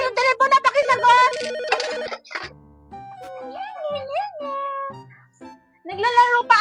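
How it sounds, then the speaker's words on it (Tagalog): A telephone rings inside a home during a comedy skit, its warbling electronic tone rising and falling in the middle, framed by loud voices talking and calling out before and after. "yung telepono na pakisagot"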